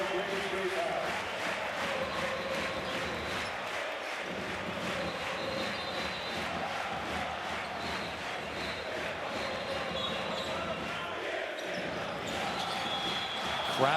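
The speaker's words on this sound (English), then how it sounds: "Crowd here in the Menorah Mivtakim is making plenty of noise right now." Loud, steady crowd roar fills a basketball arena, the Menorah Mivtakim, during a EuroLeague-style game between Maccabi Tel Aviv and Panathinaikos, with ball bounces and a commentator talking over the continuous noise.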